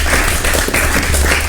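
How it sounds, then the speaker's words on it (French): Audience applause for a visiting school delegation in a live broadcast studio, a dense continuous wash of clapping filling the short stretch, loud and close. "merci de vous applaudir"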